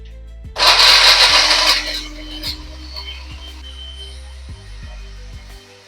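A home kitchen mixer whirs loudly for about a second blending a Biscoff milkshake with milk, then cuts off, leaving light clatter and thumps of handling the jar.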